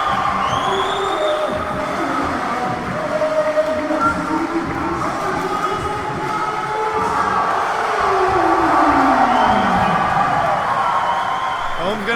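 Crowd cheering and shouting throughout a championship Army combatives bout, a steady roar of many voices with louder swells near the end, spectators' voices blending under the din.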